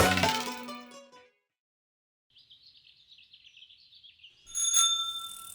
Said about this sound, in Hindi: हम ना मंदिर में घंटा बजा के आते हैं।